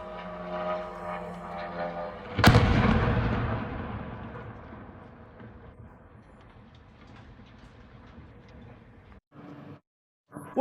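A drone strike blast at a logistics hub erupts suddenly with a loud, broadband boom, then rolls into a long rumbling decay under steady background noise before cutting out near the end.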